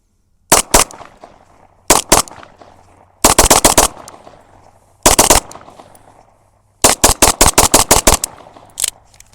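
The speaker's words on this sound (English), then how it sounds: "Going to jack and just function check the gun, make sure everything goes good" A gun firing a full 20-round magazine during a function check, loud close shots in quick bursts and rapid strings with short pauses between groups.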